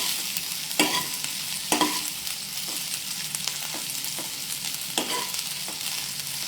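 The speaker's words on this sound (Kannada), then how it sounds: "ಇದಕ್ಕೆ ಕ್ಯಾಪ್ಸಿಕಮ್ ಆ್ಯಡ್ ಮಾಡ್ತಾ ಇದ್ದೀವಿ." Capsicum stir-fried in a pan during a live cooking session, giving a steady sizzle broken by several sharp scraping stirs of the spatula, close and fairly loud with no talking.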